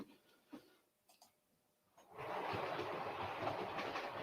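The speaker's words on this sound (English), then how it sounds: "See if we can get a train moving." A few faint clicks, then a steady rumbling whir starts and holds, like a small model train running along its track nearby.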